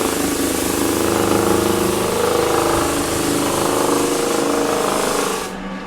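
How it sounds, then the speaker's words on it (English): A power tool smooths a timber floor with a loud, continuous grinding drone that holds steady for several seconds, then drops off sharply at the end. "We are just smoothing out our floor."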